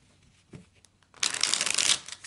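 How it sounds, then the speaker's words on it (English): A deck of tarot cards is shuffled by hand on a table: a few soft handling taps, then a loud, close riffling burst lasting about a second, with no talk. "I'm going to take a few moments to shuffle the cards."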